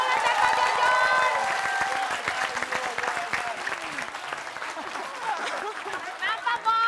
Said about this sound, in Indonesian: Tepuk tangan dulu dong buat Bang Mali, Pak Bola, dan Pak Jojon.